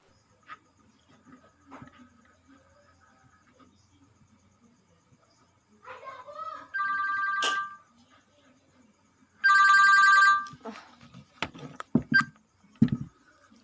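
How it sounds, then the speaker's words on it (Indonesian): A telephone rings in two bursts of electronic ringtone, preceded by faint button tones, then the call connects; quiet room with light sounds between rings. "Telepon Tri dulu lah"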